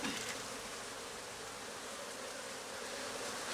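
Bees buzzing close around a beekeeper's hands while working an aggressive hive, a continuous dense insect drone with no voices.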